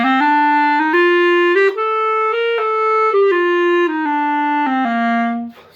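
A solo clarinet plays a smooth, connected long-short dotted rhythm, its notes slurred together as the line climbs and falls back, close and full-toned with no gaps between notes.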